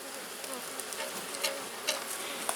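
Honey bees at an open queenless hive make a dense, steady buzz close by, with occasional louder passes as individual bees fly near.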